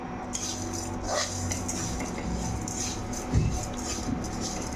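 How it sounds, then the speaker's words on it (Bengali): A spatula scrapes and stirs dry sugar melting into caramel in a pan without water, giving continuous soft scraping and light metallic clinks, fairly close and steady throughout. "এবার খুন্তিতে চালিয়ে দেবো"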